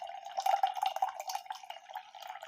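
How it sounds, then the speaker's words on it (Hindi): Water drains from a freshly opened coconut in a thin, steady trickle with fine dripping and splashing, close and fairly quiet throughout. "पानी निकल रहा है।"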